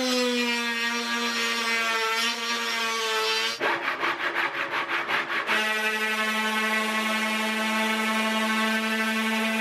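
A wet saw whines with a steady motor tone as it cuts a natural flax composite panel, interrupted by a stretch of rapid rough grinding as the blade bites, then the motor hum resumes alone.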